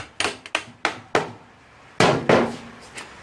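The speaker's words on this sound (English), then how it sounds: "you can then just carefully, with a copper hammer or soft hammer," Copper or soft hammer knocks on the rear wheel of a KTM 640 LC4 motorcycle, six or seven sharp close blows in an uneven rhythm, each ringing briefly before decaying.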